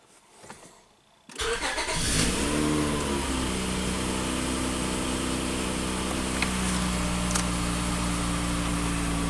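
A Honda Odyssey minivan fires up after a brief quiet moment, then its engine revs and settles into a steady, loud drone that runs for several seconds with no talking.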